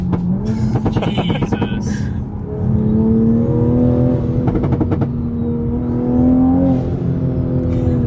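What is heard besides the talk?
2020 Supra big turbo accelerating, turbo spool, partial throttle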